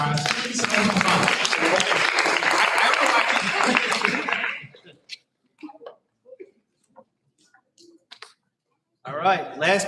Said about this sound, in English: Let's have one last round of applause for our students of the month.